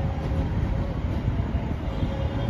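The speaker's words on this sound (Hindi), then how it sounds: "अभी सामने से एक ट्रेन आ रही है" A Prayagraj Junction–Ballia MEMU passenger train arrives at Banaras railway station with a steady, loud rumble and wheel noise, holding constant throughout without any talking.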